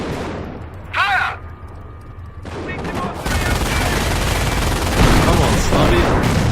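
Gunfire in the World War II strategy game Company of Heroes: bursts of rifle and machine-gun fire crackle loud and dense, with shouted voice lines in the game over them.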